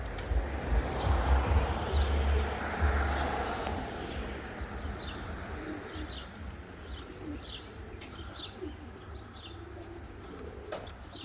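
Pigeons on a rooftop give soft coos and scattered chirps over a low outdoor rumble, loudest near the start and fading slightly toward the end.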